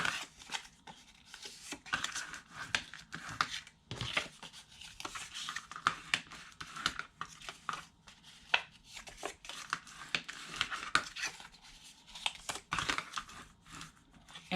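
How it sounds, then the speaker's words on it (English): Paper for a bridal shower favor box is folded and its score lines burnished, a close, quiet series of crinkles, rubs and soft creasing strokes in irregular bursts with no talking. "we are going to take this and fold and burnish our score lines"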